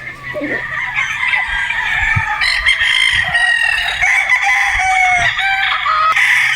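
Several Boston Roundhead gamefowl roosters crow loudly and close, long overlapping cock-a-doodle-doo calls with occasional clucks, over low farmyard noise.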